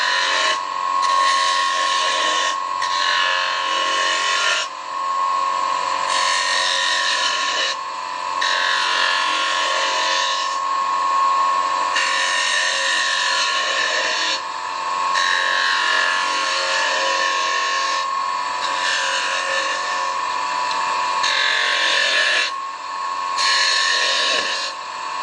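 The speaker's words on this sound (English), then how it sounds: "You can practice here on the inside by grabbing your spindle gouge and make some little coves or whatever in there." A spindle gouge cuts small coves into spinning wood on a lathe, giving repeated scraping cutting passes over a steady motor hum, close and loud, with brief pauses between cuts.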